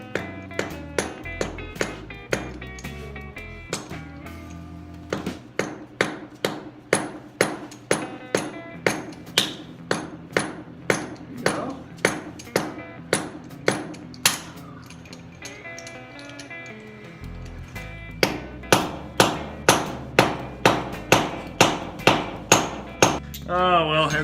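Hammer striking a deep well socket fitted over a locking lug nut on a car wheel, many sharp metallic blows in steady runs with brief pauses between series, close and loud.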